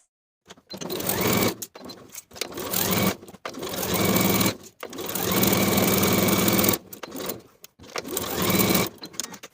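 A sewing machine stitches the outer edges of a blouse collar in several bursts of steady whirring, separated by short pauses, close and fairly loud with no talk.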